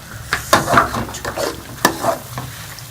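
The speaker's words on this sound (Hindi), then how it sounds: "इसको अच्छी तरह से अब हमने बर्तन से अलग होने तक भून के पका लेना है हलवे को" Semolina roasting in ghee for makhandi halwa, stirred with a spoon in a pan: soft continuous sizzle broken by several sharp scraping strokes against the metal, close and fairly loud, with no talking.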